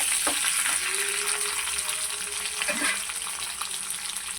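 Chana dal and dried red chillies fry in oil as a tempering for ridge gourd and coconut chutney, a loud continuous close-up sizzle with a faint stirring scrape partway through.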